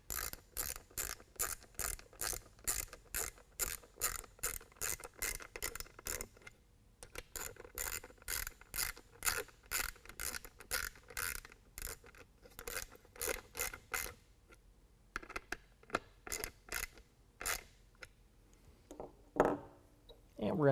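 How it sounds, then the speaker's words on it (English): A ratchet drives new Torx screws into an aFe Momentum air intake on a 2020 Ram 2500 with the 6.7L Cummins diesel, giving close, rapid, steady clicking in repeated bursts separated by brief pauses. "They actually give us some new Torx screws to install with this. We're going to line them up and tighten them down."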